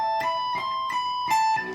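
A fast guitar lick runs up and back down the strings with a small string skip, the notes bright, clean and close, each attack sharp and sustained briefly in a quick even rhythm across a short phrase.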